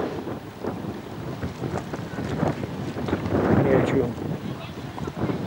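Wind blowing outdoors on a sunny day at an open-air bench-carving site, a steady rushing buffet across the microphone that swells louder midway, with people talking underneath.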